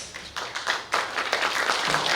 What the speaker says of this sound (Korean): 오늘 소중한 말씀을 해주실 네 분께 다시 한번 큰 박수 부탁드립니다.